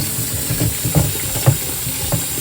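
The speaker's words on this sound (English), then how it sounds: "Wash the plate off real good." A plate is washed under a running kitchen tap, heard as a steady close rush of water with soft irregular splashes and thumps as the plate is handled.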